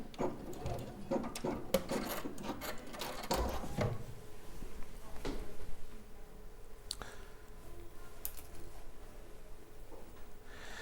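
A sewing machine runs steadily back over a row of topstitching and stay stitching on a garment, a continuous close mechanical whirr with a few sharper knocks and rubs early on.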